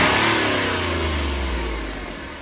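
A 2015 Hyundai Grand i10 Magna with a 1.2 diesel engine revs up close, a loud, rough drone that starts strong and slowly winds down. No voices are heard.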